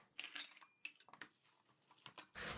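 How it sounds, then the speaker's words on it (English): A utensil stirs a chicken and spinach stuffing mixture with an egg in a bowl for stuffed shells, making quick, irregular clinks and scrapes up close, ending in a brief burst of rougher scraping. "Then you're simply going to start stirring."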